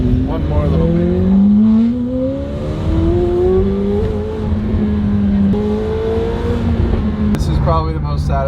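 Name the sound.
Lamborghini Urus supercar driving through a tunnel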